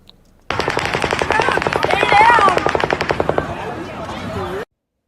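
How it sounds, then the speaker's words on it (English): Several automatic guns fire together at the Route 91 Harvest festival in Las Vegas, a loud, fast rattling volley lasting about four seconds before cutting off abruptly, with crowd noise faintly beneath. "the third volley of automatic gunfire begins"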